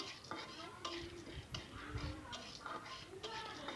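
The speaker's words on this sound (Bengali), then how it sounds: "এই তো কিছুক্ষণ নাড়াচাড়া দিয়ে সুন্দর করে তেলের সাথে ভুট্টাটা মিশিয়ে" Popcorn kernels are stirred in hot oil in a pot on a stove, with repeated scraping and clinking strokes and soft sizzling, close and fairly quiet.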